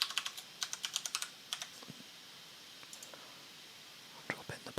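A computer keyboard being tapped while a password is entered: a quick burst of close, light key clicks, then a lull with a few scattered taps and a final short cluster, with soft whispering beneath.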